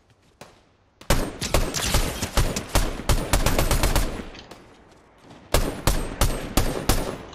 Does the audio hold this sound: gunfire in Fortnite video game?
yes